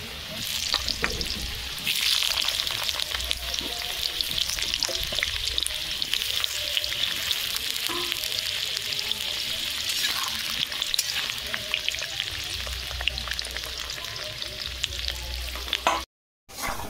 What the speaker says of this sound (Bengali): তেল গরম হয়ে গেছে, আলু দিয়ে দিচ্ছি।